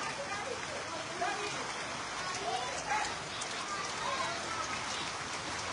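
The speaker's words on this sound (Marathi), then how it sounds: "खूप खतरनाक पाऊस, खूप म्हणजे खूप जबरदस्त पाऊस पडतोय." Heavy rain pours steadily in a village, a constant dense hiss of falling water at moderate level with faint patter throughout.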